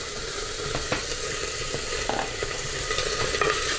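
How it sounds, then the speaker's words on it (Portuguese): About 100 grams of bacon fries in a little olive oil inside a pressure cooker, a steady close sizzle and crackle with occasional scraping clicks of a utensil stirring the pan. "primeiro eu vou fritar em média 100 gramas de bacon"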